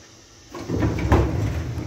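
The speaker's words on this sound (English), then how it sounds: "Here's the elevator. Yeah. It's an Otis." Otis elevator car reaching its floor in a public library in Merrillville, Indiana, its doors sliding open with a rising mechanical rumble and rattle. The sound swells after a short quiet start and stays loud and steady, with no talk.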